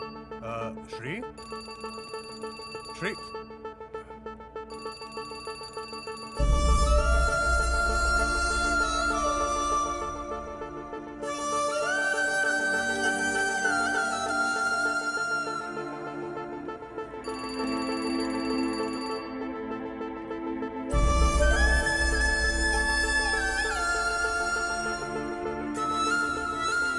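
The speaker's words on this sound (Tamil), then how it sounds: "ஷீலாவுக்கு ஃபோன் பண்ணியா?" A telephone ringtone in a Tamil film scene plays as a loud, repeating electronic melody that continues for the whole stretch, with no talking over it.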